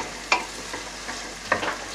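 Onions and carrots sizzle softly in a hot pan, with a few scraping stirs of a utensil against the pan.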